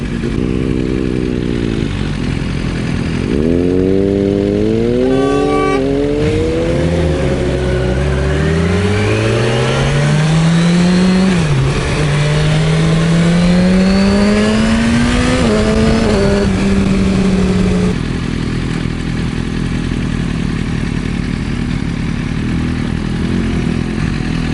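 A powerful motorcycle, a bit of a beast, rides and revs hard, its engine note climbing and falling through several loud gear-change sweeps before settling into a steadier drone, no voices present.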